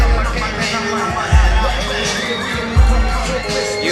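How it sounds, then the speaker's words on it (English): A packed crowd at a motorsport-style event roars and cheers continuously, with dense babble and shouting filling the air and a couple of heavy low thumps rising briefly above the steady din. "You can hear that crowd going wild."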